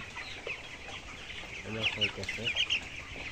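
Chickens cluck on a poultry farm, several birds giving short repeated calls near and mid-distance over a low steady background hum.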